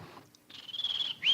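A man vocally imitates a bird call, a short high whistled note that sustains and then rises at the end, heard alone and fairly faint.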